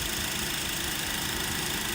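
A car engine running just after a barely successful start, a steady mid-pitched idle with a slight knocking vibration, continuous and fairly quiet with no talking.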